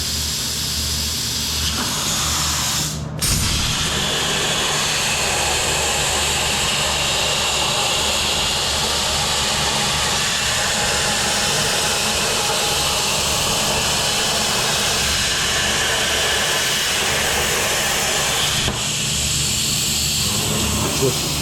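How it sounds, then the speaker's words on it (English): Plasma cutter slicing a metal flange in a fabrication shop, a loud, steady roaring hiss that runs almost unbroken, with brief sharp crackles near the start and end. "I know everything is very loud, especially when the plasma is going in."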